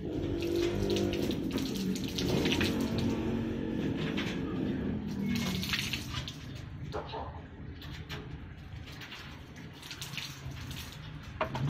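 Water is poured onto the soil around a grafted tomato plant, giving a steady splashing and trickling that runs the whole time, with faint background noise.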